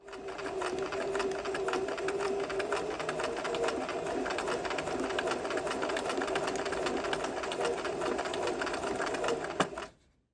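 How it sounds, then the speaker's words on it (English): Sewing machine running steadily while stitching a zigzag stitch on fabric, a constant whirring mechanical hum with fast rhythmic needle pulses that holds for about ten seconds, then stops abruptly. "Put a piece of fabric in, lower the needle, lower the presser foot"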